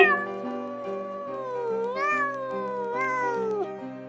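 A pet cat meows in a long, drawn-out call that rises and bends twice, clear and close, over a steady low background tone.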